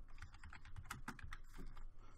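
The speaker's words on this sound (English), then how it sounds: "Sorry if you can hear my typing." Faint, quick keystrokes on a computer keyboard come in an irregular burst of clicks, recorded close by a sensitive microphone.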